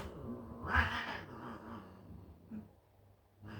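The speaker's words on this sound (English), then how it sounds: "my cats are fighting." Two cats fight, squalling and growling in short bursts, loudest near the start, then quieter scuffling sounds with a brief yowl at the end.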